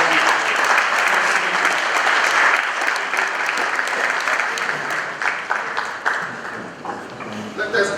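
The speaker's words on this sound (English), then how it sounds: "Let us give her another round of applause." Sustained applause fills a conference hall during a power breakfast event, a dense wash of clapping that stays loud before thinning out toward the end.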